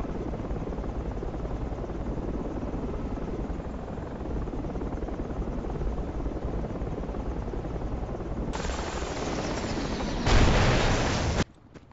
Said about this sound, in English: Enemy chopper incoming.